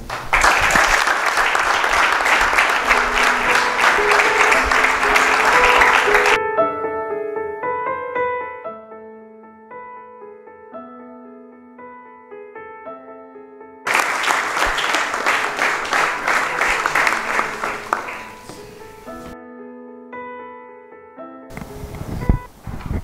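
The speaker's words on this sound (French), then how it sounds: "quand vous avez applaudi" A school audience with students from Beni applauds in two loud, dense bursts of many hands, separated by a stretch of soft musical tones, and a shorter burst returns at the end.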